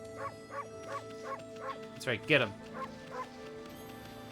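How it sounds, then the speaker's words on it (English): A cartoon dog repeatedly barks in the video game Okami, giving a regular run of short yips with a louder burst partway through. Someone speaks briefly over it. "I also like that it's a dog and I have a bark button."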